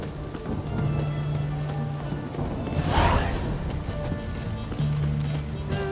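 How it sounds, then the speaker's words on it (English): Rain falling in The Witcher 3 video game, a steady close patter of drops on surfaces with a brief swelling rush in the middle and low ambient hum beneath. "It's raining, of course it's going to be done."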